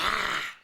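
A man's short, low, rough growl, close and loud, lasting under a second.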